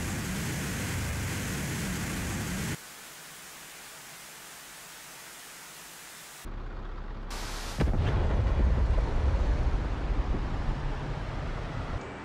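An AGM-88C HARM missile fires from an F/A-18C in the DCS flight simulator: steady cockpit noise drops, then a sharp rushing roar of the launch rises loud and broadband, continuing as a sustained hiss.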